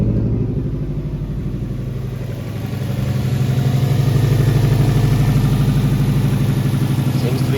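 A Subaru WRX engine idles cold, steady with a low, even rumble and light clatter, rising a little in loudness partway through.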